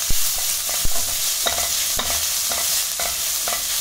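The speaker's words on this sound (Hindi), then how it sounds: "और इसको लगातार चलाते हुए ऐसे भून लेंगे हम।" Onions with curry leaves and mustard seeds fry in a pan, sizzling steadily while a spoon scrapes and stirs repeatedly in irregular knocks, with no voices.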